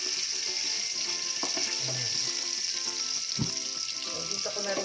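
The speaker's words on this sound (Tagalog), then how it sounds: "Dito ko na rin po siya ipiprituhin. Dito ko na rin po siya igigisa." Chicken pieces and tofu frying and sautéing in a pan for sweet and spicy pancit canton, with a steady, close sizzle and occasional stirring clinks and scrapes, no talking.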